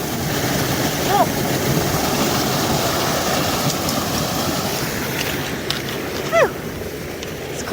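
Water rushes down a small waterfall on a New Hampshire hiking trail, a loud, continuous broadband roar with a few short bird chirps rising above it.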